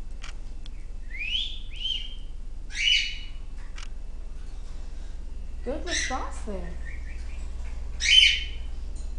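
A female cockatiel indoors gives several shrill chirps and whistled calls, some rising sweeps and one louder squawking call, spaced apart over a soft steady background hum, with a person speaking briefly in between.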